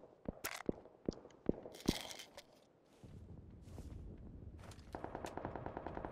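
Gunfire in a video game cracks as scattered single shots and then settles into faint, rapid distant bursts over a low background rumble.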